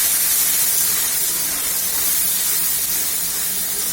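Onion paste hits a hot pan for mutton kosha and gives off a loud, steady, close hiss like a strong spray of steam, unbroken for several seconds with no talking.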